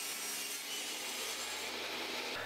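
Plywood cabinet parts being cut on a long table, a steady close whirring cut with a continuous rasping wood texture and no talking.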